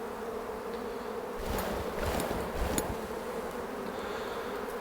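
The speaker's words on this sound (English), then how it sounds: "So let's just knock the bees off this one to show you." Honey bees knocked off a brood frame of sealed brood from an open hive: a steady, dense buzz fills the whole stretch, and a few sharp thumps and rustling bursts stand out near the middle, with no voices.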